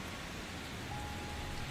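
Pouring rain in a stormy night scene, a steady dense hiss of heavy rainfall filling the whole moment at an even, close level with no voices.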